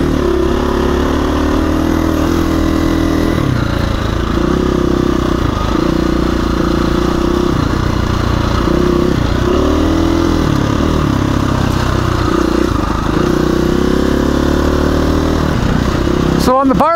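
Husky FE501 or KTM 350 EXC-F dirt bike engine while riding, a loud continuous four-stroke drone rising and falling with throttle, close and dominant throughout.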